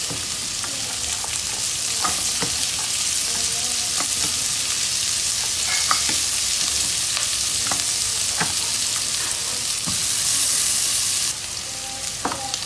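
Garlic and onion sauté in butter for turkey soup, giving a loud, continuous close sizzle with occasional clinks and scrapes of stirring throughout.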